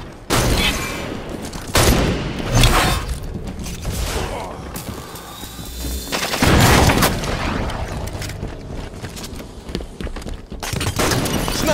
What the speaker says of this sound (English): Sniper fire, move it!